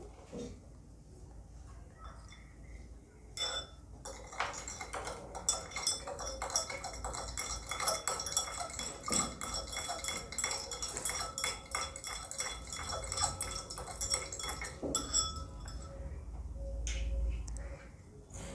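A spoon stirs sand into water in a glass, clinking and scraping against the sides in steady, busy rounds for a long stretch, close and fairly clear with no talking.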